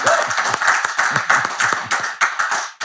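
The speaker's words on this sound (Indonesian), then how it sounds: "Boleh tepuk tangan ya buat Kiai Haji Munahar Muhtar." A round of clapping from an audience welcoming guest Kiai Haji Munahar Muhtar, close and loud with sharp individual claps standing out over a few seconds, without speech.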